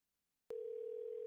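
After a moment of silence, a steady electronic telephone tone begins abruptly and holds at an even pitch, faint and alone, as a call is placed back.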